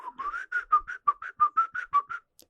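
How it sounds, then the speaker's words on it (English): Someone whistles a short tune, a quick run of clear, separate notes, close and alone against silence. "And I would just start whistling."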